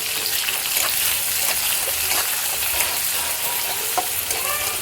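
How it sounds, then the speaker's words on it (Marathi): Chopped onion sautés in hot oil with cumin and mustard seeds, producing a loud, dense, crackling sizzle close up, with steady stirring scrapes running through the whole stretch and no voices. "ह्यामध्ये आपण घालूया एक कांदा आपण इकडे चिरून घेतलेले आहे ते घालायचं आणि चांगलंच आपल्याला हे परतून घ्यायचं"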